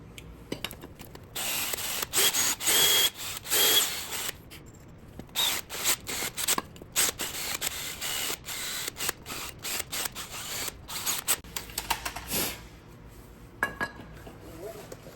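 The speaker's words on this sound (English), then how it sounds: "These grooves, I'm gonna hit them with the wire wheel." A wire wheel scours the grooves of a rear brake caliper bracket on a Volkswagen Tiguan, sounding as repeated harsh bursts of abrasive whirring, each a second or two long, separated by brief pauses.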